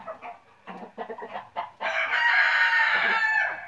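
Clucking from a 2.7 kg rooster and 1.8–1.9 kg hens gives way to a loud, sustained rooster crow up close, with no talking.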